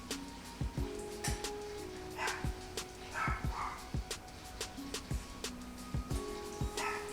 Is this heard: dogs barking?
yes